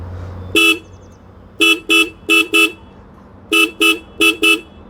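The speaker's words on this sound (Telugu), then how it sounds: "దీని హారన్ అయితే అసలు చెప్పక్కర్లేదు, పెద్ద లారీకి ఉన్నట్టే వస్తుంది దీనికి హారన్ సౌండ్" Royal Enfield Continental GT 650 motorcycle horn, loud and close, sounding in short bursts: one single blast, then a double and a pair, then two more pairs, with idle rumble between.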